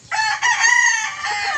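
A gamecock crows nearby in one loud, drawn-out call that rises and then holds.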